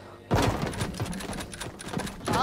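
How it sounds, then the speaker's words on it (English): Fireworks going off across the street outside a house, heard from indoors as a rapid, crackling burst of pops and bangs. The barrage is moderately loud, with a short quiet gap before it starts. "People are like doing fireworks outside of my house."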